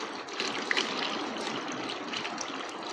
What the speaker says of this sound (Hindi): ये अभी मैं पानी इसमें ऐड कर रहा हूँ।